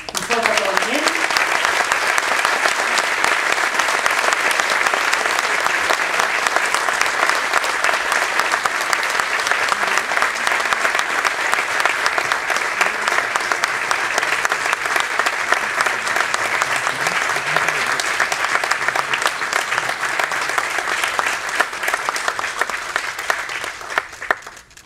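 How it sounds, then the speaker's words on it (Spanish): Sustained, loud applause fills a hall at a civic ceremony in Sagunto honouring a silver medal recipient, an even wash of many hands clapping that continues for about twenty-five seconds before tapering off. "per favor, un fort aplaudiment"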